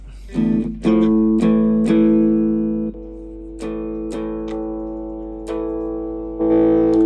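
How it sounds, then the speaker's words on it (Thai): Distorted electric guitar through a Cube Baby Pro: several strummed chords ring and sustain, with sharp pick attacks between held notes, loud and close. "เราอยากได้เสียง แตก"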